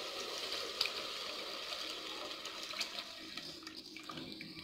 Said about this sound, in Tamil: இந்த ஸ்டேஜில் நம்ம கரைச்சி வச்சுருந்த புளி கரைசலை இதில் சேர்த்துக்கலாம்